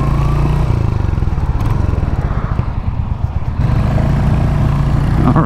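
A 2023 Royal Enfield Hunter 350 single-cylinder motorcycle idling, then pulling away with a loud, close engine thump that dips briefly before settling into a steady throb.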